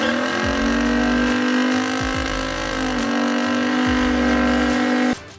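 Chevelle SS 454 muscle car with a rumbling exhaust, a deep steady engine drone with several surging low pulses, loud and close, before cutting off near the end.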